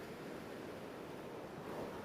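Gentle ocean waves wash steadily onto a sandy beach, a soft, continuous surf rumble with no distinct breaks, faint and even throughout.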